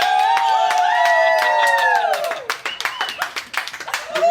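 A crowd cheers and whoops with high, sustained shouting that gives way to scattered clapping and lively voices, fairly close and loud.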